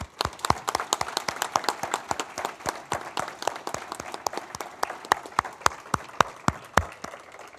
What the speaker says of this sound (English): Please join me in a round of applause once more for the recipients of the 42nd Alumni Tribute Awards.